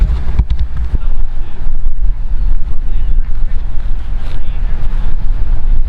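Headwind gusting across an outdoor disc golf course, buffeting the microphone with loud low rumbling and a few sharp knocks, while someone talks at times.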